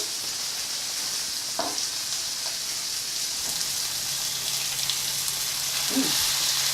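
Chicken sizzling in a frying pan, a steady bright crackle and hiss throughout with a few soft clinks of utensils, close and even in level.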